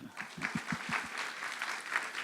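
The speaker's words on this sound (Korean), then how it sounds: "와 박수." A church congregation breaks into applause, with a few loud, rhythmic claps at first that blend into a steady wash of clapping.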